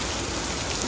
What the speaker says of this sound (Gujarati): બધું ભીનું કરી દીધું છે અહીંયા વરસાદે